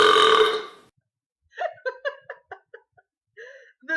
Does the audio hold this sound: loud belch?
yes